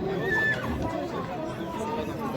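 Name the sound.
young horse neighing at livestock sale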